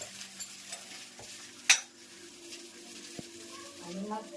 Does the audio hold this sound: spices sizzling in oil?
yes